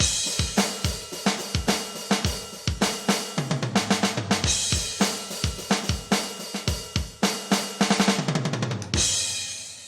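A steady beat on a budget Pyle Pro PTED06 electronic drum kit with punchy kicks and bright, rapid hi-hat and cymbal hits, looping continuously at a moderate tempo with no voices.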